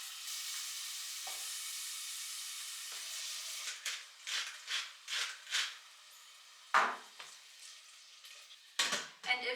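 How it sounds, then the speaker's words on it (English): Onions are added to a hot cooking pot for cream soup, setting off a steady sizzle that gives way to a series of rhythmic stirring swishes and a few sharper scrapes, close and without talk. "So I'm just adding in the onions."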